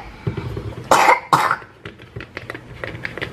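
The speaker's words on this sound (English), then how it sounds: "cover your mouth when you cough" A toddler coughs two or three times, close and loud, followed by softer throaty sounds and light household noise.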